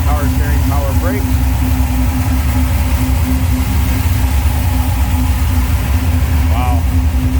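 A built 440 V8 in a 1968 Plymouth GTX idles with a steady, loud, rumbling drone that runs without a break, and a few faint squeaks rise above it.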